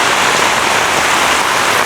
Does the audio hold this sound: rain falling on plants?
yes